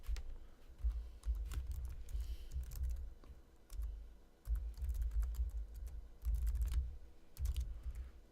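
Computer keyboard typing while entering Java code, a steady run of quick clicks in bursts with brief pauses, close and moderately quiet, no talking.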